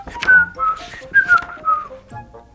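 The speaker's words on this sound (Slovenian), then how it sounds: "ježek Janček pa si prične lepo žvižgati" A cheerful tune is whistled by a narrator voicing a hedgehog character in a children's story, a short melodic phrase of several clear notes close to the listener.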